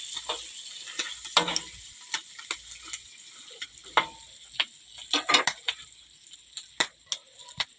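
Pork adobo frying in its own oil while being stirred, with a steady background sizzle and repeated sharp scrapes and taps of the spoon against the pan.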